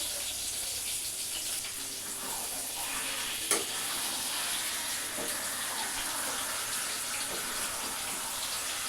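Meat frying in spiced masala for biryani, a continuous dense sizzle with occasional spoon stirs and one sharp clink, close and steady throughout with no talk.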